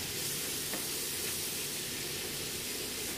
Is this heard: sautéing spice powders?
yes